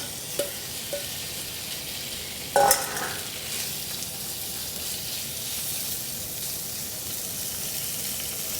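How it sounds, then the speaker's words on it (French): Salmon hits a hot pan and fries with a steady, even sizzle throughout, broken by a short splashing clatter as it goes in. "Et voilà, on verse le saumon dans la poêle."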